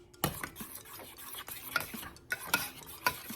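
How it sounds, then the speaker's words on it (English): Cornstarch gel thickens in a pot under steady stirring, the spoon scraping and tapping against the pot in a few distinct strokes, close and fairly quiet with no talking. "you want to keep stirring it"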